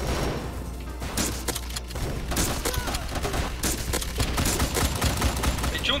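Dense bursts of gunfire in the game Bullet Force crackle continuously, rapid overlapping shots with a steady low rumble underneath.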